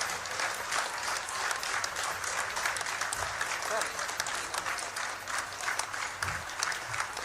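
An audience at a police promotion ceremony claps steadily at moderate volume to welcome a newly promoted head constable, with the applause continuing throughout the clip.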